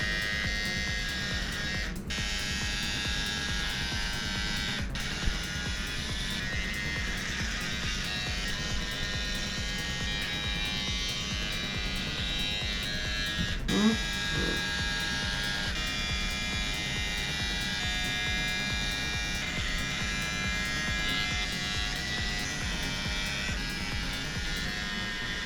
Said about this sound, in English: It's much easier to shave someone else's head than it is to shave your own.